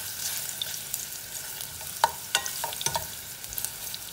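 Ginger sautés in cooking oil in a wok-style pan, giving a soft, steady sizzle. Scattered sharp clicks and scrapes of stirring sit on top, closer together in the second half, and no one talks.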